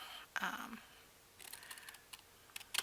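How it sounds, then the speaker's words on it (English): Scissors snip through paper for a journal craft, a couple of quiet, close crisp cuts with short rustling of paper between them. "Let's cut them right in half."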